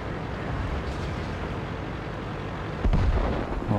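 Tank cannon fire from World of Tanks gameplay, a Leopard 1 and IS-7 battle: a dense low rumble of battle noise, then one louder booming shot near the end.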